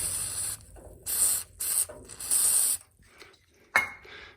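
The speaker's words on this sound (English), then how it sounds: "we'll just put a couple puffs of silicone spray in here" Several short hissing puffs of silicone spray into a card file cabinet bearing, four or five in an uneven rhythm, followed by a mechanical clack and a brief spinning rattle.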